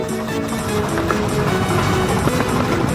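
Steam locomotive working hard on the Romney Hythe and Dymchurch Railway, a steady close rhythmic pounding with wind noise on the single track toward Dungeness.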